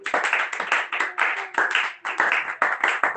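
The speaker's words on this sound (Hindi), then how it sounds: "विकी भाई के लिए जोरदार ताली।" Audience applause at a church gathering: sharp, dense hand clapping in repeated bursts, loud and close, with no speech over it.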